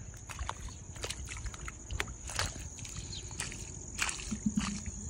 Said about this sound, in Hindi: पूरा उधर पानी जा रहा है